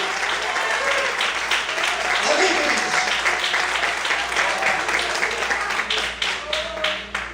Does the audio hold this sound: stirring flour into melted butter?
no